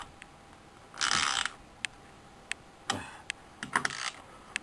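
A ratchet wrench tightens TV wall mount bolts into a wall, giving short bursts of rapid, close clicking between isolated single ticks, with no talk.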